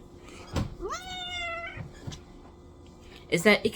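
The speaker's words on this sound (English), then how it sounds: "that's my cat" A cat meows once, a rising then steady drawn-out cry, with a short muffled knock before it and a louder scuffle of sounds just after.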